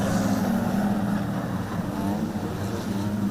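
Wingless sprint cars race around the Lismore Speedway dirt track, their engines a steady, distant droning roar that holds evenly throughout without a break.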